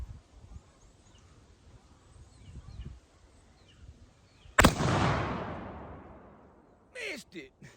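One sharp, loud shot from a .45 caliber Kentucky pistol fired outdoors at a pumpkin on a post, ringing out and fading slowly, with quiet rustling before it and brief noises after.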